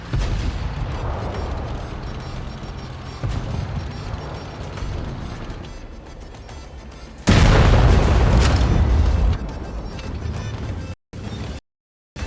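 Heavy tank cannon booms in a World of Tanks Blitz battle, with a loud burst of blasts midway over a steady rumbling game backdrop, then brief dropouts near the end.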